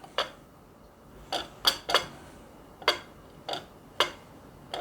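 A knife slices through a piece of sweet cornbread, giving seven sharp, separate taps and scrapes spread unevenly over a few seconds, close and clear against a quiet background.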